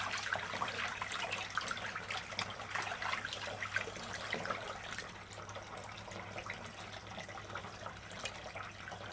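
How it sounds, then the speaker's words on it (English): Hot water runs from a tap into a sink or basin for hand-washing clothes, a steady close trickle and splash with a low hum beneath, continuous throughout. "So I'll use some hot water from the tap."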